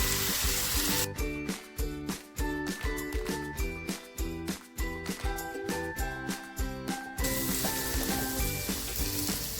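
Ghevda flat beans sautéing with home-made garam masala in a pan make a close sizzle overlaid by a fast, rhythmic run of clinks and tinkles that stops abruptly, then quieter frying continues; no one speaks.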